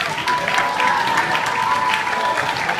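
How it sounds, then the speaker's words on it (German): A crowd claps briskly and evenly throughout, a short burst of close, lively applause with a faint tone running underneath. "einen Applaus bitte."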